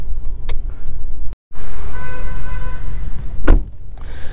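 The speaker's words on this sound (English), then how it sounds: "It closes with a thud, so that's a thumbs up from my side." Door of a 2021 Volkswagen Taigun 1.0 litre DSG shut firmly, a single solid thud partway through, set among loud car-interior rumble and handling noises.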